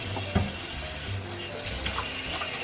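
Tap water runs steadily into a sink during hand-washing in a home kitchen while raw beef for pot roast is prepared, a continuous moderate splash with a brief knock near the start.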